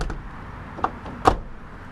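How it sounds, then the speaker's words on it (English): Door of a Ford E350 van with a swivel passenger seat base shutting: two short, close knocks about half a second apart, the second louder, with no voices. "the door, when it shuts,"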